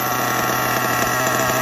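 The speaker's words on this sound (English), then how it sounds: "listen to that rich and loud nitro motor go" A nitro-powered RC car engine runs steadily at a rich, loud idle, a continuous buzzing drone with no breaks and no voices.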